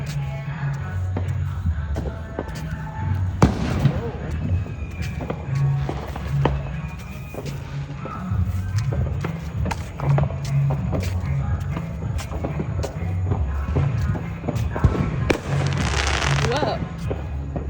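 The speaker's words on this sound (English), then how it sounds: "everybody's watching the fireworks." Fourth of July fireworks at a backyard barbecue, with repeated booms and crackling bursts going off throughout at varying distances, over steady crowd murmur and the shuffling of people nearby.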